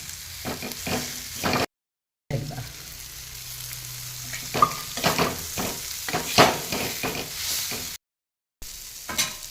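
Pigeon pea chutney with coriander sautéing in a pan, a steady close sizzle with clinks and scrapes of stirring, pausing briefly twice before the frying resumes.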